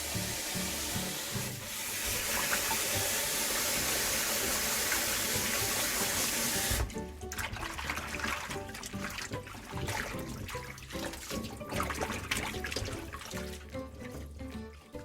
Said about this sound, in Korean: 찬물에 한 번만 씻어주세요